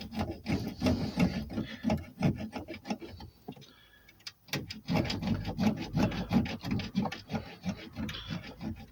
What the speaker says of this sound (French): je vais prendre une lame de scie hein, et je vais essayer de scier le tuyau